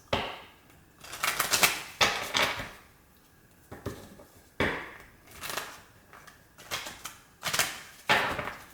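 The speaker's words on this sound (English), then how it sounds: "Two more shuffles." Repeated bursts of papery riffling and slapping as a deck of tarot cards is shuffled close up, in quick rhythmic rounds with short pauses between.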